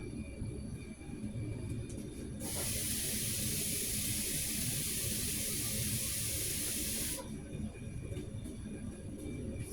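Water pouring steadily from a container into a cooking pot for pork bone soup, a bright rushing splash lasting several seconds between quieter kitchen background noise.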